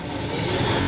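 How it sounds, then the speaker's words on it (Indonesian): A bus engine runs steadily close by, a low rumbling drone with slight swells in loudness and no voices over it. "Itu suara unit mesin."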